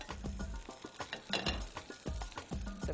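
Garlic and sesame oil get stirred in a pan over low heat, a steady close scraping and soft sizzle with rhythmic spatula strokes throughout, no voices.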